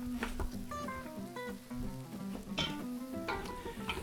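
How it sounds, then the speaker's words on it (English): Carrots, onions, potatoes and leeks are tipped into a hot soup pot, giving a steady sizzle and frying crackle with scattered clinks and tones of a utensil against the pot. "now we're going to begin to gently add our carrots, onions, our potatoes, and then our leeks."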